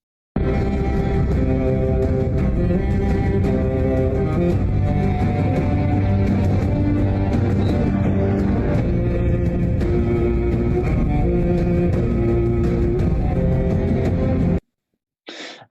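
The Game of Thrones orchestral theme plays loudly and continuously, with dense sustained strings and brass layered together, then cuts off abruptly near the end.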